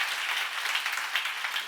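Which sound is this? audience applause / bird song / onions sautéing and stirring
audience applause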